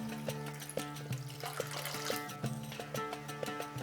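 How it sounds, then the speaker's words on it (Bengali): Water is poured from a cup into roasted semolina in a pan on the stove, making a steady close trickle and splash with small bubbling ticks, fairly quiet and with no voices over it. "এরপর 1 কাপ সুজির জন্য আমি দিয়ে দিচ্ছি 2 কাপ জল।"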